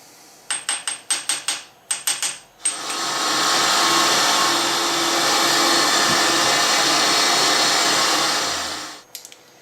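A machine cutting a miniature M1911 magazine part to final size, with a series of sharp knocks followed by a loud, steady whirring cut that holds for about six seconds before stopping, close and with no voices.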